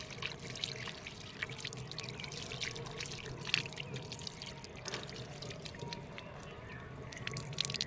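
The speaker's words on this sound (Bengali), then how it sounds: "এই ছাদের কলটার থেকে হাতটা ধুয়ে নিলাম" Water runs from a tap on a rooftop as hands are washed under it, a steady close trickle and splash with small drips, continuous and unbroken with no talk over it.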